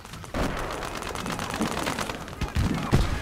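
Tank's 76 mm gun firing in Gates of Hell, a World War II battle game: sharp booming shots over a dense, continuous bed of distant gunfire and explosions, with a loud blast near the end.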